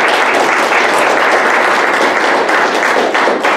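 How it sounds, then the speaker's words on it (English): An audience at a speech competition final applauds a speaker, a loud, sustained and even burst of many people clapping throughout. "Please give Laura a round of applause for this."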